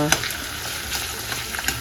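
Potatoes frying in a pan for a breakfast of fried potatoes and paratha, giving a steady close sizzle with a few light stirring clicks.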